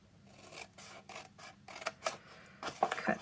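Paper for a Stampin' Up! card holder box is cut and trimmed, producing a run of close, dry rasping and crunching strokes that come in short bursts and grow louder toward the end, with no talking.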